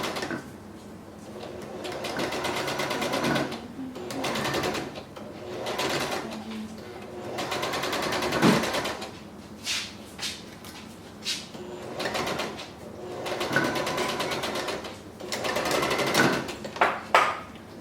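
Sewing machine stitching a fabric mask, with a brief back stitch, running in steady bursts of rapid mechanical clatter, close and fairly loud, with short pauses between runs and no talking.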